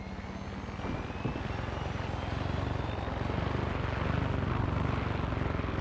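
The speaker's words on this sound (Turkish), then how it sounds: "Bu helikopter olayı çok hoşuma gitti ha." A helicopter flies in the video game Far Cry 6, its rotor and engine producing a steady, heavy droning rumble that holds at an even level without a break.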